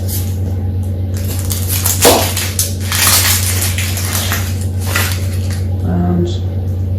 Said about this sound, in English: I'm going to put these 3 onions in.